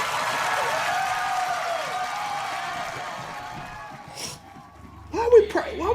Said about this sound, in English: Are y'all clapping?